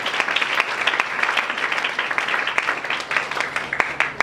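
Congregation clapping in a French-speaking church service, a dense, steady burst of applause from many hands filling the room.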